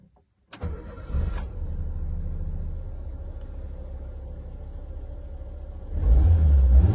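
A 1997 Renault Twingo's Cléon engine cranks briefly and catches, settling into a steady, close idle before a deeper rev swells near the end.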